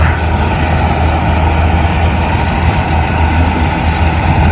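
A loud, steady low rumble of a tractor engine idling close by during a paddy harvest in Punjab, constant throughout with no talk.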